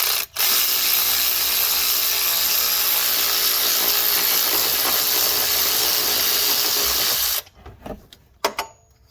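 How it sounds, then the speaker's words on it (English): A ratchet wrench clicks steadily and loudly as it backs out a long M10 bolt, the repair being a belt tensioner replacement on a 2005–2011 Volkswagen Jetta; the ratcheting runs continuously for about seven seconds, then stops, leaving a few scattered knocks. "Just keep backing it out the bolt. Use the ratchet again."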